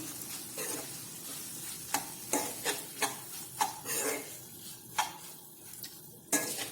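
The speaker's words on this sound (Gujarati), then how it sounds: "શાકની અંદર સારી રીતે મિક્સ કરી લઈશું" Spiny gourd curry stirred in a pan with prepared masala, a faint low sizzle punctuated by a series of distinct spatula knocks and scrapes against the pan at uneven intervals.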